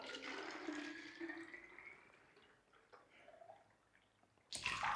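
Water poured from a drinking tumbler into a bottle, a steady trickling pour that thins and fades over a few seconds, heard close and alone.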